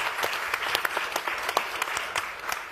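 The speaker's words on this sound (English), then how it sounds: "I think that deserves a round of applause." Audience applause breaks out after a panel talk on sustainability, a fairly quiet patter of clapping with distinct individual claps standing out.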